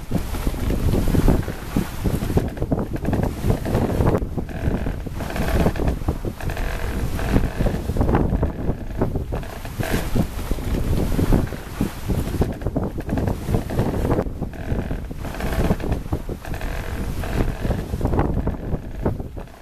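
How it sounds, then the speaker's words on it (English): Steady wind and water wash past a wooden sailboat, with repeated low creaks and groans from the hull and rigging throughout, no voices. "that wonderful characteristic creaking, groaning sound so familiar to deep-water sailors on wooden boats"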